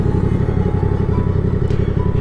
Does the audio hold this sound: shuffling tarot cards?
no